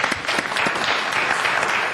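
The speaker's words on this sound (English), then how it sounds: "if you just give them an applause" A school board meeting audience breaks into dense, steady applause, a full wash of many hands clapping close and loud without pause for the whole stretch.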